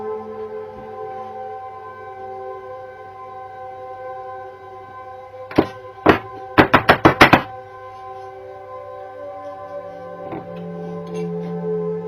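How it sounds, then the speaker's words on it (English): A quick run of sharp wooden taps and knocks as a chisel removes the edge of a piece of wood, a couple spaced out then five or six in rapid succession, against a quiet background hum. "just removing the edge with a chisel."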